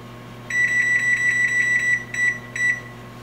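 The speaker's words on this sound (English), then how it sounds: "So now we're going to set the timer for 1 hour and 20 minutes." An oven timer is being set and beeps loudly, first in a long fast string of pulses, then in two short bursts after brief pauses, over a steady low appliance hum.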